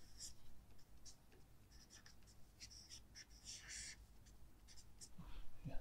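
A marker writes on a lecture board in short squeaky strokes and scratches, faint and close, arriving in quick bursts with quiet pauses between them.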